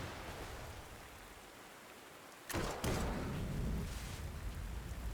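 Steady rain hiss in the video game Panzer Corps 2, a soft broadband wash throughout, briefly interrupted by a couple of sharp bursts midway before settling into a slightly louder, rumbling downpour.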